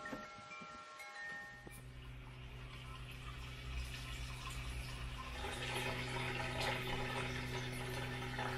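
Water pours steadily into a large 60-gallon Kratky hydroponic tank, a quiet, continuous rushing fill that grows a little fuller and louder partway through, heard alone without voices.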